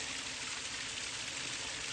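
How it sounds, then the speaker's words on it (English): Small waterfall beside a hiking trail near Hexacuba Shelter, a faint steady rush of falling water heard from a distance, continuous and even with no voices. "It's a little waterfall."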